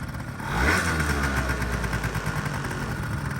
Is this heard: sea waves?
no